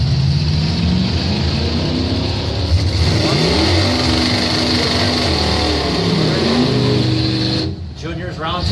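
Drag racing cars, including a white and green Ford pickup, launch and race down the track, with loud engines revving and roaring and a few shifts in pitch, while an announcer talks over them throughout.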